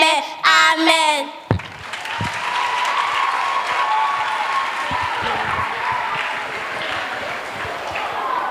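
Audience applause erupts after a children's slam performance at a church children's ministry event, a dense steady clapping crowd that follows a brief burst of voices and holds fairly loud through to the end.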